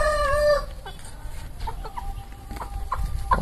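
A hen clucks after laying an egg, close and fairly loud, with a drawn-out call followed by a run of short repeated clucks among other farm chickens.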